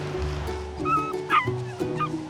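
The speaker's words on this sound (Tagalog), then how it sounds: "Aso ba yun?" Dog making several short yips and barks close by, repeated in a loose, uneven rhythm over a low background hum. No one speaks.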